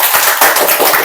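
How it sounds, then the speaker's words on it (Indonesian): A classroom of pupils claps together in a loud, dense burst of overlapping hand claps, close and continuous for about a second. "Tepuk tangan dulu."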